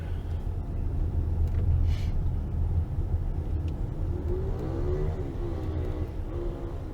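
A car drives through light traffic in a quieter part of San Jose de Ocoa, with a steady engine rumble and road noise throughout, and a passing vehicle briefly audible.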